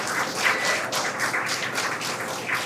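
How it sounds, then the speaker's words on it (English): A crowd cheers and applauds at SpaceX Mission Control in Hawthorne, a dense, steady wash of clapping and voices that holds at an even level throughout. "The crowd here at Mission Control in Hawthorne cheering."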